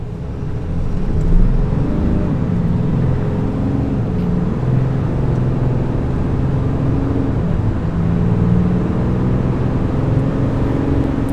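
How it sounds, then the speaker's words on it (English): A 2020 Ram 3500 Laramie pickup with an inline-six engine and 3.73 axle accelerates from 0 to 60, a sustained engine drone heard from inside the cab, rising and shifting in pitch with no talking. "I'm gonna show you guys a 0-60 right now"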